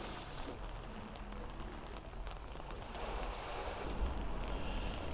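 Calm sea at Blackpool on a rainy Easter Monday, with gentle waves washing in a soft, continuous hiss under light wind noise on the microphone, no voices.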